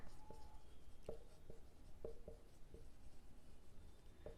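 Writing a formula on a board during a maths lesson on cylinder area: faint, scratchy strokes with small taps as letters form, over a quiet room hiss with no talk.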